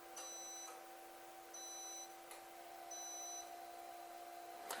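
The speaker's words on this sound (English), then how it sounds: "It gives you a little beeping tone." A COMFEE toaster oven air fryer signals the end of toasting with three short, evenly spaced electronic beeps. They are faint and sit over a steady background hum.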